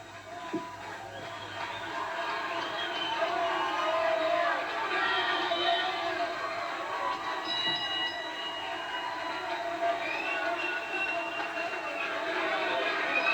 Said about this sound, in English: Terry, this crowd is going crazy.